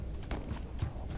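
Horse hooves clopping in the video game This Land is My Land, a few muffled, fairly faint beats set against a constant low rumble of in-game ambience.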